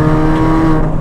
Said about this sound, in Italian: un 1600 che sale con questa velocità su questa strada